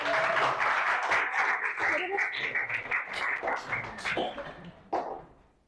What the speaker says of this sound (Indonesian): Tepuk tangan dulu untuk kelompok 7